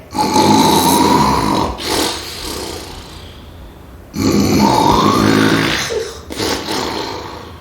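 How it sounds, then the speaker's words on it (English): Loud, rasping snores from a giant in two long drawn-out breaths, each a deep rattling grunt that swells and fades, with a short pause between. "the giant was snoring loud enough to give a rock a headache"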